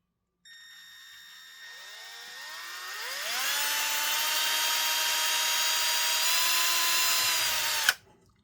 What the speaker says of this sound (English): we're gonna drill a hole through